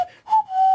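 A person whistles a clear, steady single note at a lively party show, briefly cut off and then held on, close and fairly loud.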